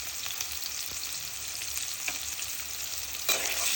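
Chopped onions fry in hot oil for a prawn and lady's finger curry, with a continuous bright sizzle close by that grows slightly louder near the end, and no one speaks.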